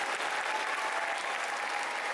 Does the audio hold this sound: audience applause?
yes